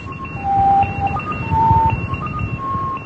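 A number station's Morse code transmission sends a loud, steady stream of tonal beeps, short and long, with a second fainter tone line running alongside over hissy radio static.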